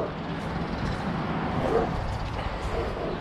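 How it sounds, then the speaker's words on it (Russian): A German shepherd and a small black dog greet visitors at a house, barking and yipping in a noisy, continuous outdoor stretch without speech. "У нас встречает нас овчарка, еще какая-то собачка черненькая."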